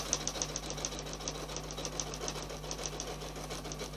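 Close, continuous whirring of a sewing machine working a decorative stitch in a circle, its needle pattern repeating in a quick, slightly uneven back-and-forth rhythm.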